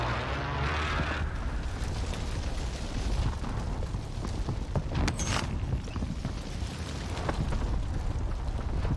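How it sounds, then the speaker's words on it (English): Airstrike explosions land during a Call of Duty Modern Warfare Plunder match: a run of deep, rumbling blasts and sharp bursts, close and loud, scattered over several seconds. "Friendly position airstrike inbound."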